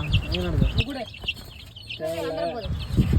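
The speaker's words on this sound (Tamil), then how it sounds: "இந்த கோழிங்க எல்லாமே நம்ம இன்குபேட்டரில் வச்சு பறித்த குஞ்சு." Chickens on a small home poultry farm, hatched in a homemade incubator, cluck and squawk close by in several bursts, with a voice talking over them.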